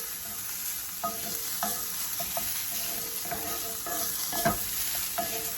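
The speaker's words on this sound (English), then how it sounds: "throw some garlic in there and let that go for about 30 seconds, just to get the rawness out" Garlic sizzling in a pan while a quiche filling is cooked, a soft continuous frying hiss punctuated by several light clicks and scrapes of stirring, fairly quiet and without talk.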